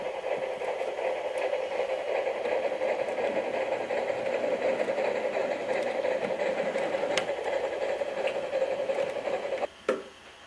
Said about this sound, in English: Gordon came screeching to the Greendale Railway.